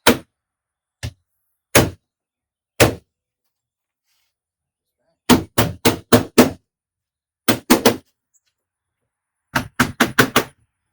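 Sharp whacks of a plastic trim tool setting a Toyota Prius door window molding tab, a few single knocks and then quick bursts of three to four close, loud thwacks separated by silence.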